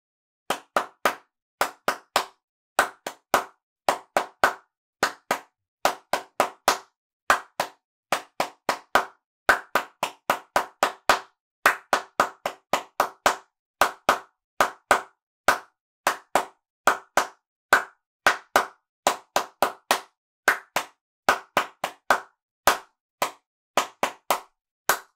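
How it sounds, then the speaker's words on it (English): Hand claps from a clapping rhythm game in a choir's wellbeing singing workshop ring out sharp and close. They come in quick clusters of varying rhythm, separated by short pauses, with no talk. "Well done if you managed not to clap even the first clap of that one."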